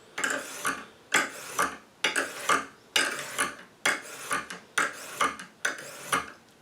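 Lansky sharpening system stone drawn repeatedly along a knife edge, a steady series of about nine close, raspy scraping strokes with short pauses between, no talking.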